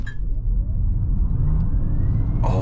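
A Kia EV6 GT electric car on a launch-control acceleration run, heard from inside as a strong low rumble of tyres and road with a faint rising electric motor whine, loud and steady, ending in a brief burst of noise.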